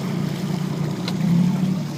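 A new 30-horsepower Tohatsu four-stroke outboard motor running during break-in, a steady low hum on the water that rises slightly partway through, fairly quiet with some wind and water noise.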